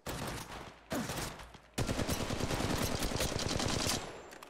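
Automatic weapon fire in Apex Legends Mobile gameplay: dense, rapid-fire bursts in three runs separated by short gaps, loud and near, with no talking.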